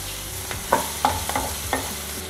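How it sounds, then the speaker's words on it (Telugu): Onions frying in a pan for a potato and eggplant curry, with a low sizzle beneath several distinct scraping stir strokes of a utensil against the pan, close and fairly quiet. "ఇప్పుడు మనం ఉల్లిపాయలని ఒక 2 to 3 మినిట్స్ వేయిద్దాం."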